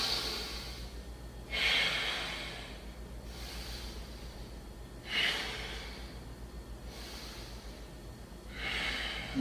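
Heavy, forceful breaths during a held yoga leg lift, with squeezed thigh and engaged core, close and steady, with four strong exhalation bursts spaced a few seconds apart over a low continuous hum.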